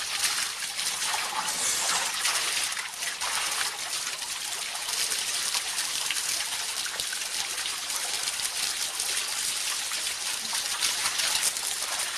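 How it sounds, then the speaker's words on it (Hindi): Water poured over a person's head while bathing splashes steadily with a bright, continuous trickling rush, close by, with no talking. "इस तरीके से आप सिर पर पानी डालते रहिए दर्शकों"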